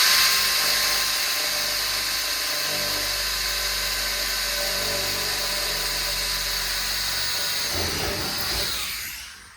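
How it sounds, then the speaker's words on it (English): A steady, loud high-pitched corded drill whine runs continuously for several seconds, close up, drilling through sheet metal, then winds down and stops near the end. "but go ahead and just drill your hole."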